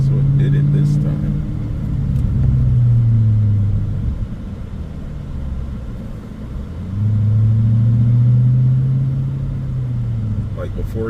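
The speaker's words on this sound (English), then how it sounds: "you could hear it misfiring and just like popping" Mercedes CL63 AMG with the M156 V8 revving in two long surges of deep engine rumble, uneven with a misfire and popping, loud and close, with people talking.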